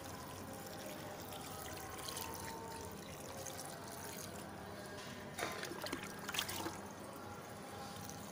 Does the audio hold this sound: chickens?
no